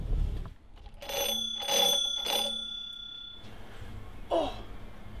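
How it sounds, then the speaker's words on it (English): A bell rings out in three quick, bright strokes, each with a lingering metallic shimmer, followed by a softer single chime after a short pause. "Shall we ring the bell?"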